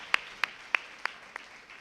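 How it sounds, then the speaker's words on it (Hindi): A few sharp, evenly spaced claps, five distinct hits over about two seconds, from someone in a church congregation at a Sunday service welcoming a visiting team from New York; fairly close and fading slightly toward the end. "ताली बजा के उनका हम स्वागत करेंगे।"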